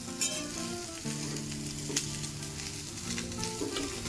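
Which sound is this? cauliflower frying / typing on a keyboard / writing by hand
cauliflower frying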